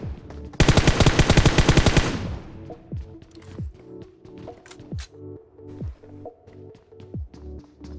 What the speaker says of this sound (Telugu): బాట్ షూట్ చేస్తుంది.